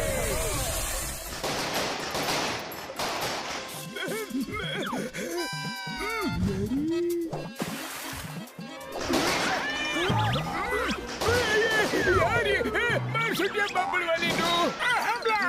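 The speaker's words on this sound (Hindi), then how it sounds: "यहाँ सामने आतिशबाजी हो रही है।" Cartoon fireworks bursting in a rapid series of loud crackling bangs and whistling launches, continuous and close, mixed with animated sound effects.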